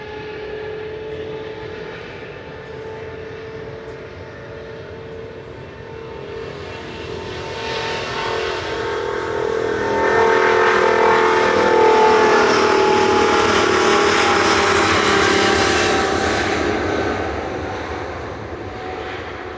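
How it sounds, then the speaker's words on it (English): A Virgin jet powered by Rolls-Royce Trent XWB engines departs, its loud growling roar swelling as it passes close and then slowly fading, with no talking over it. "Trent XWB engines. So growly."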